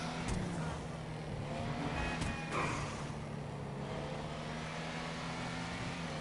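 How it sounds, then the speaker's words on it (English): Car engine with a poor, cheap-sounding exhaust driving in GTA 5, a steady droning hum with a low tonal note that holds throughout, fairly even in level with a brief louder swell midway. "Sounds like they put a garbage exhaust on this thing"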